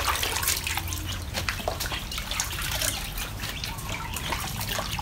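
Water from a taro dish cooked with fish, a steady close trickle and splashing with dense dripping and liquid movement continuing throughout, no talking.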